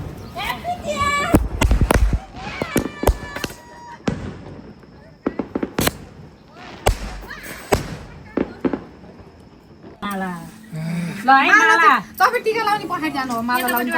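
Firecrackers burst during the Tihar festival in Nepal, a rapid string of sharp, loud bangs at close range, with people talking and shouting between and after the pops.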